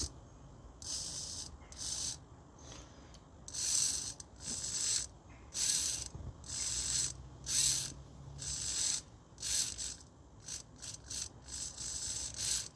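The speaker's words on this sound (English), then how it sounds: "So the servo has centered itself, or it's centered itself to wherever channel 6 is sitting." Small RC servo on an FTX Hi Rock crawler, driven from a FlySky GT5 transmitter, whirring in short repeated bursts of mechanical buzzing with brief pauses between, close and fairly clear, no talking.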